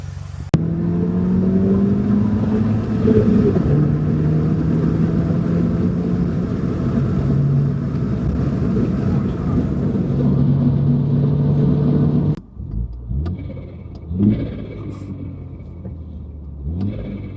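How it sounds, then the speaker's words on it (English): A MK3 Mini Cooper S engine with a custom rear muffler drones steadily under load on the open road, then the throttle lifts and the exhaust gives a few low overrun burbles and pops as it slows. "Got a bit of tone back to exhaust though, because you can hear that like overrun burble a little bit now."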